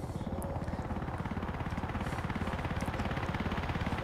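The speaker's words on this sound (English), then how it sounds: "A helicopter in the apocalypse?" A helicopter in The Walking Zombie 2 video game whirs with a steady, rapid rotor chop that holds a constant loud drone the whole time, with no voices over it.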